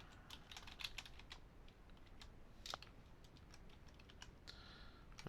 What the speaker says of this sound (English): And all sorts of fun typing today.